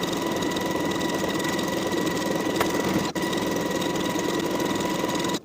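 A sewing machine stitches the crotch seam of stretchy knit pants with a steady, close mechanical whir and rapid needle chatter, running continuously with a brief pause near the middle and stopping at the end.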